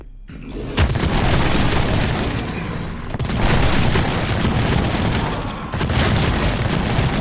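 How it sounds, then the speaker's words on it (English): Rocket launcher explosions in the video game Project Warlock 2 come as dense, loud booming blasts that roll into one another, with sustained roaring debris noise throughout and no talk. "I think we gotta go rocket launcher, right? Rocket launcher."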